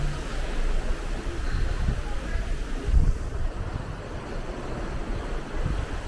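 The Disney Fantasy cruise ship under way at sea in the Eastern Caribbean, with a steady rush of waves and water along the hull and wind buffeting the microphone throughout.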